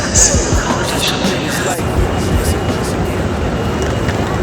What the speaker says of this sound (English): So we're at the train station and the train is delayed.